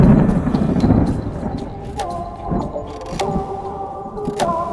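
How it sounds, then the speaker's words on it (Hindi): Deep thunder rolls low and heavy as a dramatic sound effect, with the sky darkening over Mount Kailash in a mythological narration about Shiva. A broad rumble dominates the opening, then eases into a quieter, lingering roll with scattered sharper cracks. "कैलाश पर आकाश काला पड़ गया, बादल गरजने लगे और वायु विक्षुब्ध हो उठी।"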